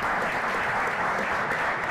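Audience applause at a Black male development symposium, a steady wash of many hands clapping together, continuous and fairly loud throughout with no talk over it.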